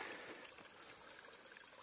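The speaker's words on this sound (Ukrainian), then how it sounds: "Набираємо трошки води" Water is collected from a small mountain stream on icy Hoverla in winter, a faint, continuous trickle and gurgle heard up close with no talking.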